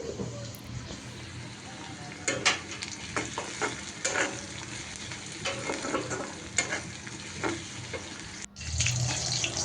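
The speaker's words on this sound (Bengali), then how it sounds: "তো 3টা ডিম একটু ভেজে নিচ্ছে তেলে হালকা করে" Three boiled eggs frying lightly in oil in a home kitchen, a soft continuous sizzle broken by repeated stirring scrapes and knocks, with a brief burst of running water near the end.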